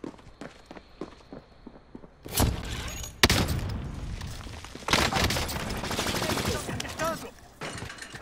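Gunfire in the video game Call of Duty: Warzone, with quick footsteps and light clicks followed by loud bursts of rapid shots and booming blasts, close and dense.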